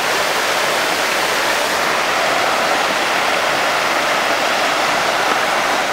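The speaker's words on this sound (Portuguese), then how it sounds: "No Jardim Botânico é possível apreciar inúmeras quedas d'água." Waterfalls in the Rio de Janeiro Botanical Garden pour in a steady, dense broadband rush of falling water, constant and fairly loud for the whole stretch with no voices.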